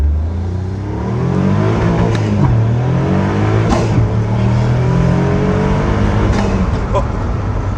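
A Caterham Seven 170R lightweight sports car engine revs and accelerates hard through rising gears, loud and close, with a voice speaking over the engine noise.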